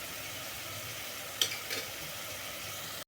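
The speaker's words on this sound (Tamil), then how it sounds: "எண்ணெயிலேயே அப்படியே மட்டனும் கொஞ்சம் நேரம் வேகட்டும்." Mutton frying in oil for jeera rice mutton biryani: a soft, even sizzle that stays low and steady, with a couple of brief stirring scrapes, then it cuts off.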